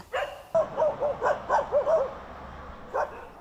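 Stray dogs living in a rubber plantation forest bark in a rapid run of sharp, fairly close barks and yips, then a final bark after a short pause.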